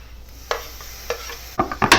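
Onion, garlic and tomato sauté in a pan with a soft background sizzle, broken by a few sharp spoon scrapes and stirring clatters that grow busier toward the end.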